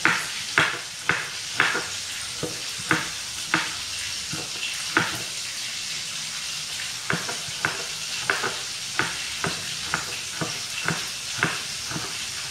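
Garlic frying in a pan for sweet-and-sour fish, a constant sizzle with regular rhythmic spatula scrapes and taps against the pan, close and steady for twelve seconds, no voices.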